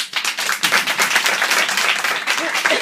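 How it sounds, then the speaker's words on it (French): Audience applause at a comedy club in Neuchâtel, steady dense clapping from a crowd filling the room for about three seconds, loud and close with no voices on top. "Applaudissez ceux qui ont le permis."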